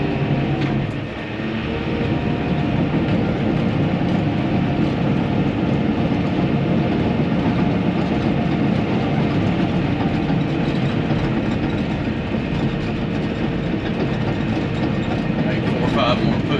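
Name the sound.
bulldozer engine pushing dirt across horse arena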